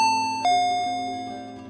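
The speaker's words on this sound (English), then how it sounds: "the doorbell rang" A two-tone ding-dong doorbell chime rings once, the tones ringing out and slowly fading.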